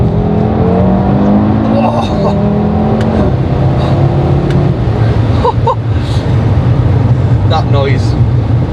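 Audi RS3 engine droning steadily from inside the cabin while driving, a low continuous hum with rising and falling tones under a person talking throughout.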